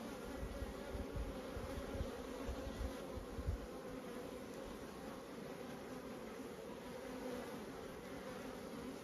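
Steady, soft buzzing of many honeybees, drones among them, from an open hive, a continuous even hum close by with no voices.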